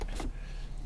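Car power window closing: a brief motor whir at the start, then a steady low hum with the faint drone of the idling car underneath.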